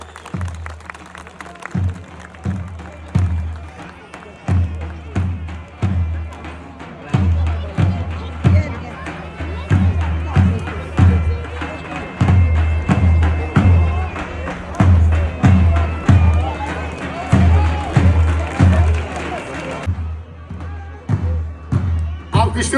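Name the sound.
crowd applauding wrestlers at oil wrestling festival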